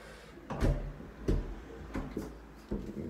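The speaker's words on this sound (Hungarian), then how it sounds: "Itt becsukjuk az ajtót szépen" A door in a flat being shut: several close, dull thumps and clunks spaced about half a second to a second apart, with no talking.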